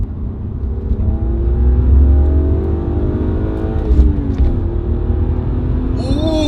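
A bone-stock 1990s BMW E36 M3 engine pulls hard under acceleration, a loud steady rising drone heard from inside the car for several seconds, with a faint higher chirp near the end.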